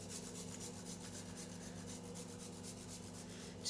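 Frozen chocolate is grated over a banoffee pie with a quick, steady run of soft rasping strokes, faint and close over a constant low background hum, with no talking.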